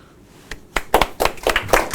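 Scattered audience applause after a talk on a new immediate process for flagrant crimes, starting with a couple of isolated claps and building into several loud bursts of hand clapping over two seconds.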